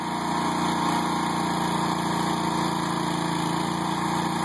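A tractor engine labours steadily while pulling a truck, a continuous loud mid-pitched drone with a high whine on top, holding a constant level throughout without speech.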